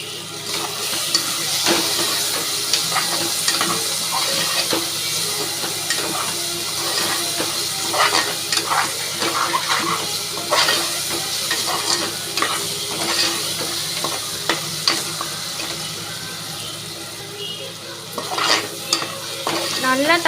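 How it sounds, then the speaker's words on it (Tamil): Tomatoes and onions sauté in a pan with salt and turmeric for an egg macaroni dish, a steady close sizzle and hiss running throughout with repeated scraping stirs of a spoon, no talking. "நல்லா தக்காளி வெங்காயம்லாம் வதங்கிடுச்சு."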